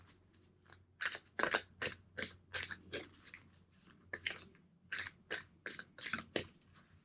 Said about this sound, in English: 2 more shuffles.